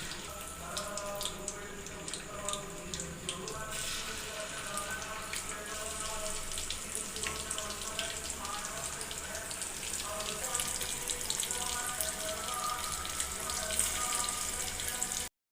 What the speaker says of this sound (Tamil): இப்போ வாங்க இதை வறுக்கலாம்.